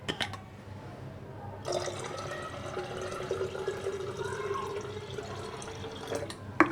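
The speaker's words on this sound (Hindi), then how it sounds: "अब मैं इसमें ये पानी डालूँगी।" Cold water is poured into a small jug, a steady splashing fill that starts abruptly and runs for several seconds at close range before stopping.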